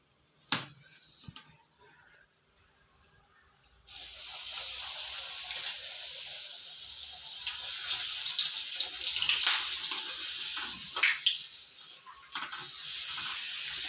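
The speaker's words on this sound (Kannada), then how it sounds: "ಪೂರಿ ಕರಿಯೋದಕ್ಕೆ ಎಣ್ಣೆ ಕಾಯಕ್ಕೆ ಇಟ್ಟಿದ್ದೀನಿ ಎಲ್ಲ ಲಟ್ಟಿಸ್ಕೊಂಡು ಇಟ್ಕೊಂಡಿದ್ದೀನಿ ಒಂದೊಂದಾಗಿ ಪೂರಿ ಬಿಡೋಣ ಬನ್ನಿ" Wheat-flour puris deep-frying in hot oil: a sharp tap, then after a pause a loud continuous hiss and crackle of bubbling oil that swells and holds, with a few soft knocks.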